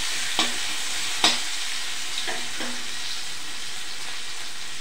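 Green chillies and ginger fry in a pan under a steady sizzle, with two or three sharp utensil taps against the pan near the start, alone without talk.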